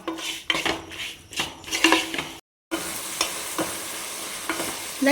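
Chicken sizzles and fries in a pan while a spoon stirs and scrapes it in bursts, with a brief silent gap partway through and clinks of utensil on metal close by.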